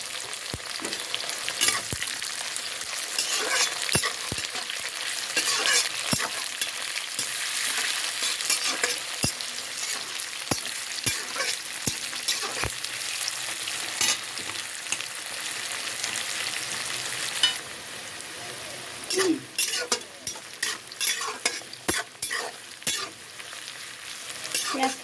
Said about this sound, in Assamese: পিঁয়াজখিনি লাইট ব্ৰাউন কালাৰ হোৱাকৈ অকণমান ভাজি ল'ব লাগিব